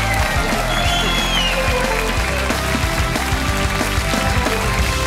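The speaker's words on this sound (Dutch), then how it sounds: "Nog een applaus, Theo Maassen." Studio audience at the end of a Dutch TV comedy show applauds steadily and loudly for several seconds, a dense continuous clapping mixed with music and some voices.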